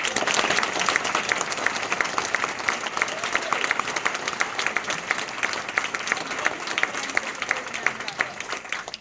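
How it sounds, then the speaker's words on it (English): An audience at an author's book talk applauds steadily for the full stretch, a dense, even wash of many hands clapping with no one talking over it. "Everybody, please give a round of applause for"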